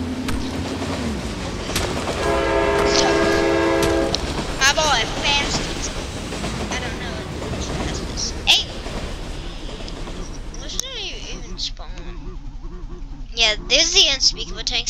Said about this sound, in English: I bet I can beat the train, ready?